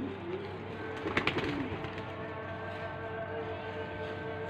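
Pigeons coo softly while being fed grain, a faint low murmur of cooing in the background with a brief flutter of louder activity near the start, otherwise steady and distant.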